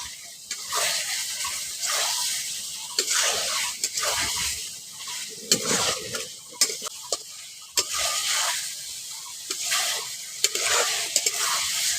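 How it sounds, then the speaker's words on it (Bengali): Fried eggs and potatoes are stirred into spices for egg biryani, giving a close, steady sizzle broken by repeated spoon scrapes and clinks against the pot, without speech. "এবার এর মধ্যে দিয়ে দিচ্ছি ভেজে রাখা ডিম আর আলু মিশিয়ে নিচ্ছি মশলার সঙ্গে"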